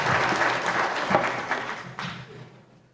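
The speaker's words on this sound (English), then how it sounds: "Round of applause for Laurie." Audience at a 1992 fourth-grade school spelling bee claps for a speller, a dense patter of hands that thins and fades away over about three seconds.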